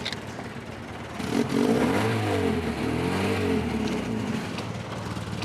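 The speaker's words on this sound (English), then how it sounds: "Sounds more like a growling bear than a car" Car with a faulty exhaust system growling loudly, a rough, throaty engine rumble that swells after about a second and holds steady to the end, with no other sounds over it.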